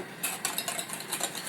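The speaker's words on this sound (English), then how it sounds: "And just whisk it" Eggs seasoned with a little salt whisked in a bowl with a utensil, quick light clinking taps against the side repeating in an uneven rhythm, close and fairly quiet, no voices.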